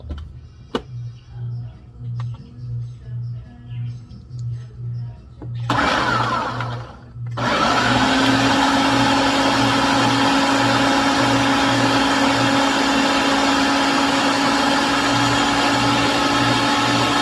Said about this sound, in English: And I'm gonna put them in the blender.